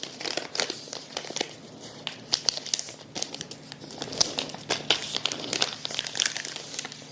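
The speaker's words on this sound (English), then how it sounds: "And you just fold it in and tape it." Gift wrapping paper crinkles and rustles steadily while being folded in and taped around a present, with close, irregular crackly bursts and no talk.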